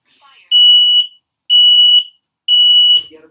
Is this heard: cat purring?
no